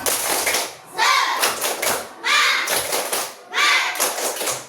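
Bursts of group clapping in a patterned rhythm, an Indonesian children's 'tepuk semangat' clapping chant, several quick claps per phrase separated by short pauses, with children's voices mixed in.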